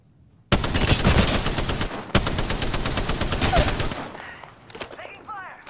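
Loud rapid automatic gunfire in the video game Apex Legends: two long sustained bursts with a brief break, then a few scattered shots and game sound effects, with a character voice speaking near the end.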